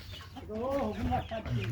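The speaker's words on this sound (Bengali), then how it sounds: "ফার্মি মুরগিগুলো খুব সুন্দর লাগতেছে" Close, soft clucking from a farm-raised hen, a few short warbling calls with faint background murmur.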